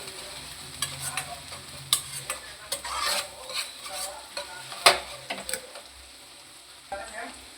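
Grated vegetables frying in oil in a pan, a soft sizzle under repeated scraping and stirring strokes with a utensil, irregular clicks and taps against the pan, close and fairly quiet.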